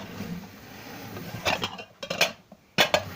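Cutlery clinking against a bowl while food is stirred, a few sharp scraping knocks in quick bursts, close by with background room noise and no talk.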